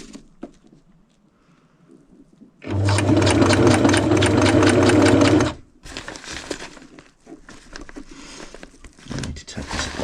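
A sewing machine stitches a repair on an Osprey Exos 58 backpack, running in one loud, steady burst of about three seconds with quieter handling noises before and after.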